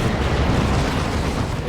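A Leman Russ tank is destroyed in Dawn of War 2 amid a 3v3 battle, heard as a dense, continuous explosive roar with low boom rumble and crackling bursts filling the whole moment at steady loudness.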